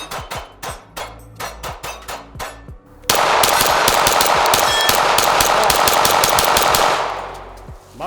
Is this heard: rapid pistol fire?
yes